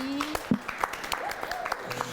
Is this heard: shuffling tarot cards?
no